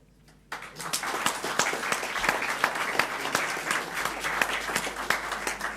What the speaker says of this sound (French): Je vais m'arrêter à chaque instant pour que vous puissiez applaudir les nouveaux administrateurs.